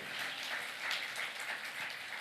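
A church congregation applauds during a festival worship service, a soft, distant wash of clapping that stays even and continuous throughout.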